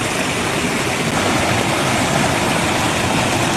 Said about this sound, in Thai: เป็นน้ำตกเลยแหละพี่น้อง